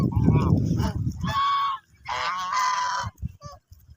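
Raja ducks on a farm let out loud, drawn-out honking calls in two long bursts, close by, after a stretch of low rustling and murmured sound, then a few short calls trail off.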